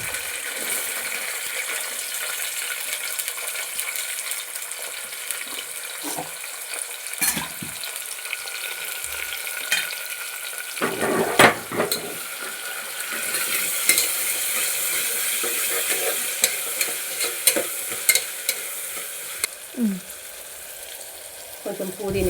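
Onions frying in a pan for a Telugu boti and raw mango curry, sizzling steadily with the scrape of stirring throughout, close and fairly loud with no talk.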